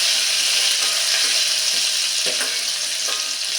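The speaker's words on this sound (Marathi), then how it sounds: "वा जबरदस्त फोडणी बसलेली आहे" Ginger and green chili paste frying in hot oil for a tempering, giving a loud, steady, close sizzle with light stirring scrapes throughout.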